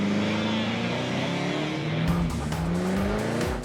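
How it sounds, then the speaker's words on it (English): A taxi doing a burnout, spinning its rear tires and burning rubber: a sustained loud tire squeal over a revving engine, shifting pitch, with harsher crackling toward the end. "Tori lays down some rubber."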